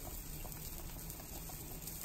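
Szechuan spicy hot pot soup base boiling in a pot, a soft, even bubbling hiss, fairly quiet and continuous, with no voices.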